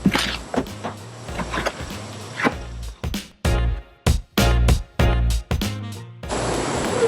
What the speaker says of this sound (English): now I'm going to use my trowel to mix these 3 ingredients before I add the water